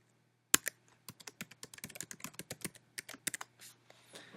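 Keys pressed on a computer keyboard while a password is typed, a fast, uneven run of crisp close taps with short gaps, heard alone in a quiet room.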